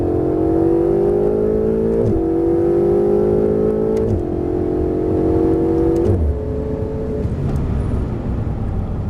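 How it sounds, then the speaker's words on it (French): Ferrari 488 accelerating hard on a race circuit, engine note climbing steadily through the gears with a brief dip at each of three upshifts, loud and close throughout. "Allez, on accélère."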